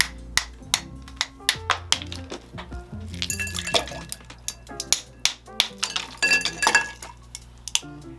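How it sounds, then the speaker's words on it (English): Ice cracked into smaller pieces for a cocktail in a home bar setting: a rapid series of sharp knocks and glassy clinks with bursts of rattling ice, loud and close, with brief talk mixed in. "Then add some ice to the mixing glass, but I am all out of smaller pieces, so I've got to crack some up"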